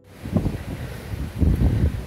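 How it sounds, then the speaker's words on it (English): Wind buffets the microphone at an outdoor landscape photography location, producing low rumbling gusts that swell and fade, with a stronger burst near the end. "It's a little windy now"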